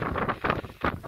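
Cold, misty wind sweeps the Ponmudi hills, buffeting the microphone in uneven, roaring gusts that rise and fall every few tenths of a second, close and moderately loud with no voices.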